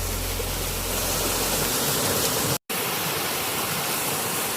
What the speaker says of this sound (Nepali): यहाँबाट मूल फुटेर तल पानी बगिरहेको रहेछ हेर्नुहोस्